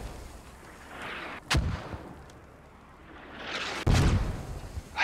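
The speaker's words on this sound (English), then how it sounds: "I think those are enemy mortars dropping near us." Two heavy mortar shells burst close by on a Squad battlefield, one at about a second and a half and another near four seconds, each a sharp loud impact with a rumbling tail over steady background ambience.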